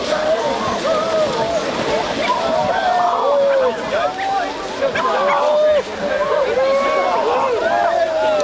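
People splash in the calm Sicilian sea during a New Year's Day dip, with water sloshing continuously beneath a lively crowd of overlapping voices and shouts.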